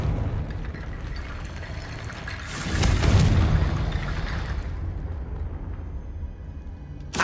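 A Confringo explosion spell from the Hogwarts Legacy video game bursts into a loud, booming blast around the middle, with a rumbling tail that slowly fades over a steady game-ambience background.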